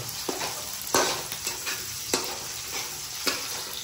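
Poha frying in a pan with curry leaves, onion and mustard seeds, a constant close sizzle with repeated sharp scrapes and taps of the spoon stirring at irregular intervals, no one talking.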